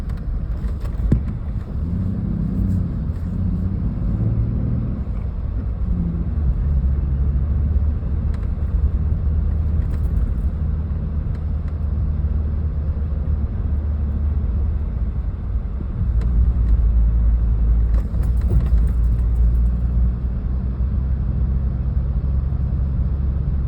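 A car engine drones steadily in low range while climbing an old wagon road in Somerset County, Pennsylvania, a constant close rumble with bumps and rattles from the rough track, no talking.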